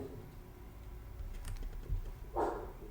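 A household dog gives a short, fairly close bark late in the moment, with a softer yelp before it, over faint tapping and handling noises at a crafting table.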